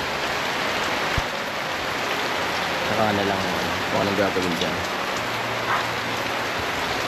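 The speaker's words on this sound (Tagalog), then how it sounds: "Kaya lang yung outer rain band, ito yung nagpapaulan." Steady rain from a typhoon's outer rain band in Bicol falls throughout as a constant hiss, with a voice talking briefly in the middle.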